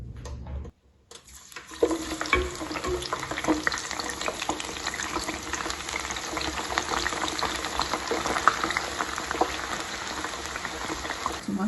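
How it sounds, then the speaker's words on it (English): Tomatoes frying in oil for moi-moi crackle and bubble after a short quiet start, keeping up a close, continuous sizzle with occasional stirring. "We are going to fry our tomatoes as I said"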